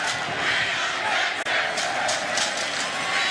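Football stadium crowd at a Kansas State vs Texas Big XII Championship game, a sustained loud roar of cheering fans with rising bursts near the end, a commentator's voice faintly underneath.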